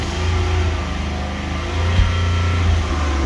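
A 2006-2010 Ford Explorer with the 4.6 V8, engine humming steadily with a slight rise in revs midway, close and loud with no voices.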